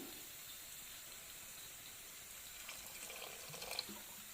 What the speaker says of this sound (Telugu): నేను ఇప్పుడు ఇంకొంచెం వాటర్ వేద్దామని అనుకుంటున్నాను